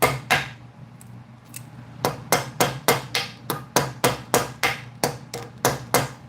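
A hammer-style tool strikes staples in a head-to-head test between a Knipex and a Toughbuilt tool, giving about fifteen sharp, close metallic blows in a steady, quickening rhythm, with no voices.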